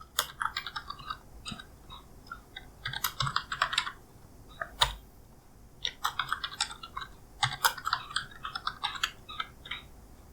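Fingers type a password on a computer keyboard in quick bursts of close, crisp key clicks, pausing briefly between groups, with a louder single keystroke midway and no voices.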